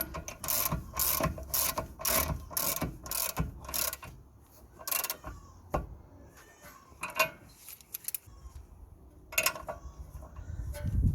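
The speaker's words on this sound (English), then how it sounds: "socket to lock the bolt while we are tightening the nut." Ratchet wrench with a 19mm socket tightening a brake bolt nut on a Kia Ceed, a quick run of sharp repeated clicks, then scattered single clicks and a final short burst, close and distinct.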